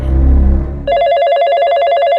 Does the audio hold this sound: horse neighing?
no